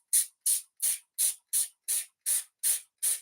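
A hand spray bottle mists over chopped leek for leek and pumpkin soup with red lentils, giving nine short, crisp hissing bursts in an even rhythm with brief silences between them, close and clear.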